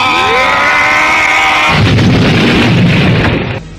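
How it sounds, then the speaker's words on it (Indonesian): A loud explosion effect in an audio drama, beginning with a rising, tonal whoosh that breaks into a heavy, rumbling blast and then fades. "Ledakan keras terjadi."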